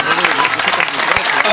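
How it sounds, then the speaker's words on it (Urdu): Audience applause at a mushaira, a dense, loud burst of clapping from a close crowd, continuous and even throughout. "بھرپور تالیاں"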